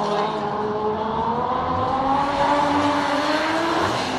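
A Nissan R32 Skyline holding long freestyle drifts, its engine droning steadily with rising and falling pitch and a continuous tire squeal, loud and sustained throughout with no talk over it.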